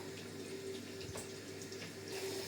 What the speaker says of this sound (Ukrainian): О, зараз я цю воду вилю.